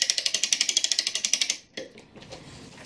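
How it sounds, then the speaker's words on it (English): A mainspring from an American clock is wound up under a steady run of sharp ratchet clicks, about a dozen evenly spaced, loud and close. The clicking stops and gives way to softer mechanical handling noises. "Wind it up so we can put the clamp on it."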